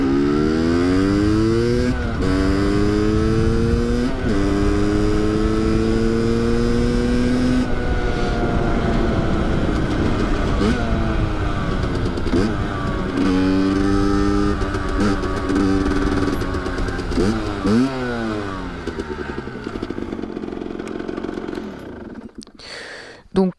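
A 50cc motorcycle engine runs close by and is revved up through the gears, its pitch repeatedly climbing then dropping at each shift, continuous and fairly loud to the end.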